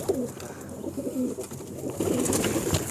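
Several pigeons coo nearby in low, throaty, repeated calls. The calls overlap softly above faint background noise, and no one speaks.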